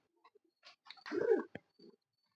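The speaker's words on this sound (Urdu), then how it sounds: "یہ بڑا مامدین کبوتر ہے" A large Mamdin pigeon cooing nearby, a few soft low murmurs and short throaty notes in an otherwise quiet space.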